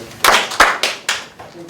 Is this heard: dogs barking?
no